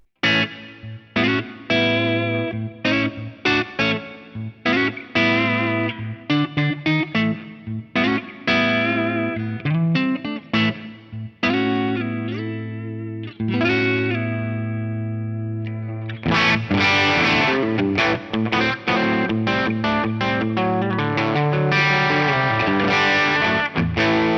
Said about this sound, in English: I love the Tele neck pickup sound, and this with the deluxe reverb model in the Axe FX3 and a bit of reverb is a pretty glorious thing